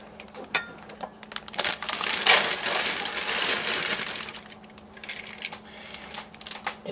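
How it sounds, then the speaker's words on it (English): Shredded broccoli coleslaw tumbling from plastic bags into a bowl, a dense crinkling and rustling burst for a few seconds with crisp crackles before and after, close and fairly loud with no talk. "empty those bags into this bowl"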